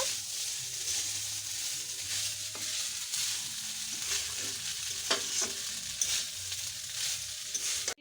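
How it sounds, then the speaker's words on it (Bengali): Rice being stir-fried in a pan makes a constant soft sizzle mixed with spatula scrapes and light taps, fairly faint and steady throughout. "এখন দেখো আমার বোন হচ্ছে ভাত ভাজা করছে"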